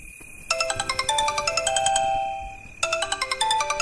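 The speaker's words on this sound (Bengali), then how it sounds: "ফের কর্কশ শব্দে ফোনটা বেজে ওঠে।" Mobile phone ringtone in a horror animation, a loud, rapid electronic chiming melody that rings, pauses briefly, then starts again.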